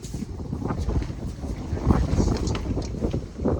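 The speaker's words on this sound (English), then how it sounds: "It's windy." Steady wind buffets the microphone with low rumbling gusts, loud and close, swelling and easing without a break.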